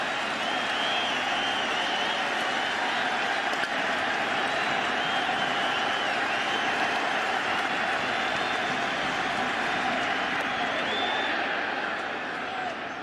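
A large baseball crowd at Yankee Stadium during the 2009 World Series Game 2, Phillies at Yankees, keeps up a continuous roar of cheering and applause, dense and steady throughout, with no clear talk over it.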